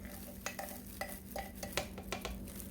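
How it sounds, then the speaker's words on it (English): A spoon stirs an anise-scented soap mixture in a pot, making soft, repeated scraping strokes at an irregular rhythm over a steady low hum. The sound is close but faint. "Now we'll stir this up."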